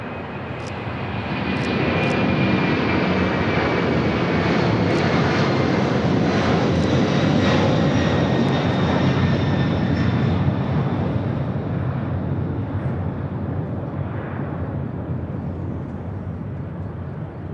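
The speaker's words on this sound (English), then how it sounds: "That was Air China Cargo 8434, taking off to Beijing on a 747-400 freighter." At LAX a Boeing 747-400 freighter takes off with a loud, sustained jet roar that builds, holds, and then slowly fades into the distance.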